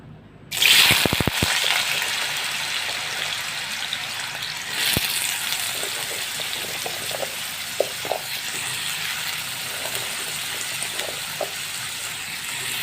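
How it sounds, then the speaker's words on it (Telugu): Potato pieces drop into oil in a thick kadai for aloo fry, starting with a sudden burst of crackling and then settling into continuous loud frying sizzle with small pops and stirring scrapes. "కాబట్టి ఇప్పుడు ఆలు ముక్కలు అయితే వేసుకుందామండి"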